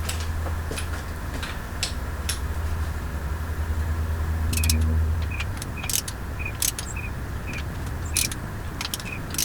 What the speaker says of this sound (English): Now let's go ahead and get these torqued down to our final sequence, 56 pounds.